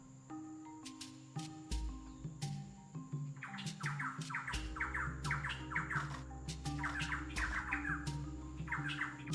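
Birds in the Brazilian Pantanal squawk and call repeatedly in loud, rhythmic bursts, with chirps and a steady insect buzz underneath, heard from close range outdoors.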